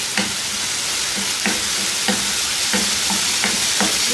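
Ginger garlic paste sizzles in a hot pan under a constant loud frying hiss, with a spoon scraping and stirring at a regular rhythm throughout.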